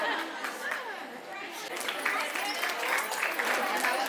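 A seated audience at a cultural gathering claps in welcome, a dense, steady patter of many hands mixed with murmuring chatter and voices throughout.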